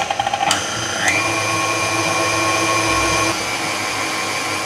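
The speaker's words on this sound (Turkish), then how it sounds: "3 dakikada böyle çırpacağım." An electric hand mixer whips cream with powdered sugar in a bowl for a raspberry cloud dessert, a loud continuous motor whine with a pitch shift as it speeds up, running steadily before dropping in intensity near the end.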